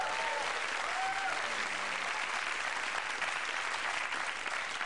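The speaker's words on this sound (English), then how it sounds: "Give Tom a round of applause." An audience applauds a guest at a live show, a continuous wash of clapping heard from a moderate distance, even and sustained throughout with faint tonal sounds drifting underneath.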